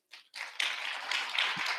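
An audience at a church service gives hearty applause to Dr. Ki-hoon Kim, a brief burst of dense clapping that starts after a short pause and continues steadily.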